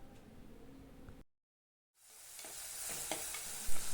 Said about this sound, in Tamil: வெங்காயம் தக்காளிலாம் நல்லா வதங்கியாச்சு.